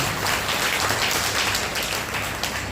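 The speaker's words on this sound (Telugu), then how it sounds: "చప్పట్లు ఒకసారి మీకు అందరికీ" Applause from a satsang audience at an anniversary celebration, dense continuous clapping from a large crowd, loud and even throughout the short stretch.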